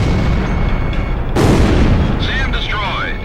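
A destroyed SAM site blows up in Ace Combat Zero with a heavy, booming explosion that swells into a broad roar midway, over constant jet and battle rumble, with a faint radio voice and high electronic warbles near the end.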